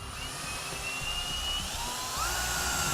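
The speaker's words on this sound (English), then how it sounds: "I'm going to be drilling a pilot hole with a 1/4-inch drill bit." A steady high-pitched power drill with a 1/4-inch bit whines continuously, close by, drilling a pilot hole in a 2016 Ford F-250 Super Duty truck bed, its pitch rising slightly near the end as it bites into material.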